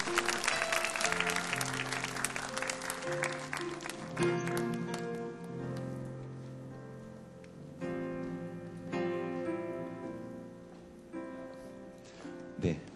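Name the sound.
church congregation applause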